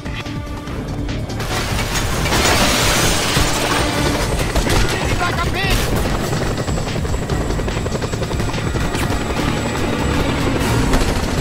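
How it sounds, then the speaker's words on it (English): A helicopter in the video game Just Cause 2 roars loudly and continuously, its rotor and engine noise dense and steady throughout, with crashing and gunfire-like bursts mixed in. "chopper, Rico, quickly!"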